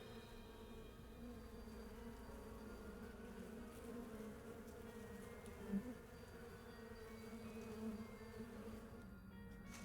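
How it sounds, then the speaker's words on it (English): A steady insect buzz drones on in the horror dating game Sucker for Love: Date to Die For, holding a constant level with a couple of faint bumps and no voices. "Just wait until the buzzing dies down."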